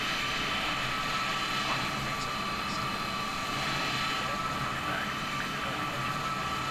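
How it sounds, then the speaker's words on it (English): Loud, steady roar of C-17 jet engines at idle in a flight simulator game cockpit, a constant broadband drone filling the whole stretch with no breaks. "Oh man, the engines are so loud."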